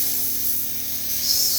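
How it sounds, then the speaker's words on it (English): Spray paint can firing a test burst for painting Chaos Space Marine miniatures: a steady, close hiss that holds at even loudness throughout, with a faint mechanical hum underneath. "Let's do a quick spray test."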